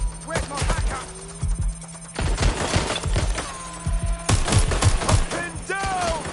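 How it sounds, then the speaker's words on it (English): Video game gunfire in a hacking-themed shooter, with bursts of rapid shots and scattered single cracks over game music and electronic tones, loud and continuous through the clip. "Taking fire, let's go. Shooting."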